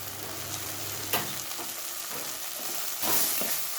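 Dried prawns fry in a pan with tomatoes, a continuous close sizzle punctuated by a couple of louder spoon scrapes as they are stirred.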